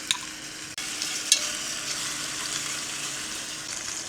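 Bone-in meat browning in a hot pan, giving a steady bright sizzle with a couple of sharp clacks early on and a brief dropout near the start, heard up close with no voices.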